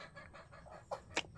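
Freshly fed chickens cluck in short, close bursts, with a couple of sharper calls standing out near the end.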